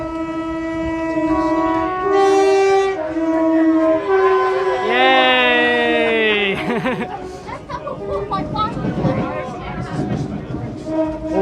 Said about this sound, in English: All the 455s hooting at each other, I love it.